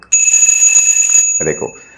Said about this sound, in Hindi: जैसे ही मैं इस रिमोट का ये बटन दबाता हूं तो ये घंटी बजने लग जाती है।